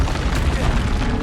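A spell blast from the video game Hogwarts Legacy, Expelliarmus, lands as a dense, loud booming burst that fills the moment with rumbling impact noise.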